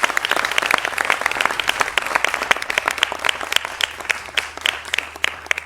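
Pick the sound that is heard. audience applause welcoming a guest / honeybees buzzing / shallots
audience applause welcoming a guest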